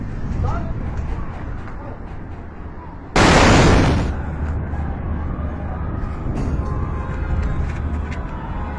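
A sudden, loud port explosion booms and roars for about a second, rising over an ongoing background of voices and noise.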